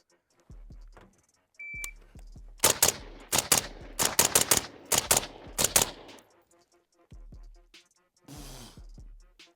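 Suppressed 7.62 rifle firing a rapid string of loud, close shots in two bursts, with short pauses between, followed by quieter mechanical clatter.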